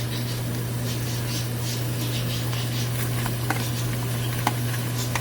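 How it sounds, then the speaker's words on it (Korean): Meat and onion stir-frying for curry in a pan, a steady low sizzle and patter with occasional light clinks of a utensil, continuous and close throughout. "그리고 이제 양파를 같이 넣어서 추가로 볶아줄게요"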